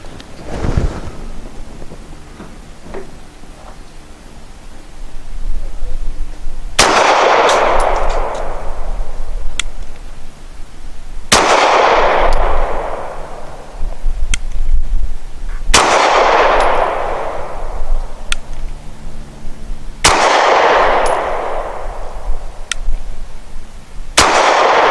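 Springfield XDe 9mm pistol firing Nosler 115 grain match ammunition from an extended magazine, four loud sharp shots spaced a few seconds apart, each followed by a long booming echo that fades slowly outdoors.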